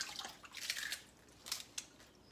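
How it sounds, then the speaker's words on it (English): Mustard green leaves are rubbed underwater in salt water, giving soft, faint wet squishing and dripping sounds in a few short bursts, close by and with no talking. "I'm rubbing the leaves off, by the way, while they're underwater."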